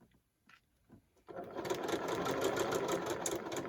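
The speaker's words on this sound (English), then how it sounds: "you're going to pivot and put your foot back down and begin stitching this way" A sewing machine stitches along the casing of a fabric face mask, opening with a few short isolated stitches, then running into a loud, fast, steady mechanical chatter close by.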